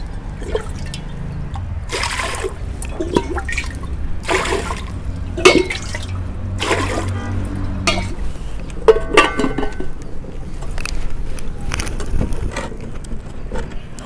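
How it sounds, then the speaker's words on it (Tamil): Water splashes and trickles into a pot in bursts, with clinks of cookware and some low background hum, no talking. "இப்போ நம்ம முதல்ல சாப்பாட்டுக்கு தண்ணி ஊற்றி ஒல ஊற்றி போட்டுடலாம்"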